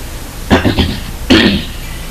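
Two harsh, close coughs, the first a short rough cluster, the second a single loud bark, over a quiet room.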